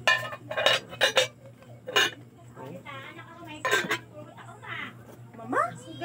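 Rattling and clinking of a food container, likely with cups, as a wedding gift is unpacked, in several sharp bursts amid casual talk nearby.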